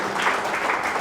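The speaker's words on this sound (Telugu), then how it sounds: "వాళ్ళతో ఒకసారి క్లాప్స్ కొట్టండి అందరికీ" Audience applause at a Krishna devotional gathering, a steady dense wash of many hands clapping, brief and moderately loud.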